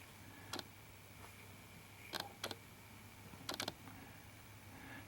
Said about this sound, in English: You hear the clicking, it's just the camera auto-focusing.